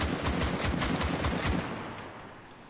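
A Chauchat machine gun fires in the video game Enlisted: a rapid, loud burst of evenly spaced shots lasting over a second, then cutting off into quiet.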